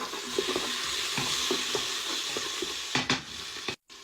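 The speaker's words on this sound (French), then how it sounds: "Je fais frire les piments. Je mets les oignons." Chili peppers and onions frying in oil in a pot, a continuous hissing sizzle with intermittent stirring scrapes and knocks, close and fairly loud, ending with a brief silence.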